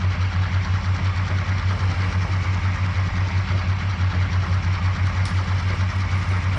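A CSX GP38-2 diesel locomotive idles in the Trainz 2022 train simulator, a steady low throbbing drone with even rhythmic pulsing that holds unchanged throughout.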